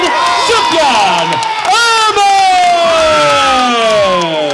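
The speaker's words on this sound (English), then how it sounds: "Please continue that applause for a gallant" Crowd at a boxing event in Sheffield cheering and clapping loudly for the winner, dense sustained roar with shouts and whoops throughout, with an amplified announcer's voice ringing over it.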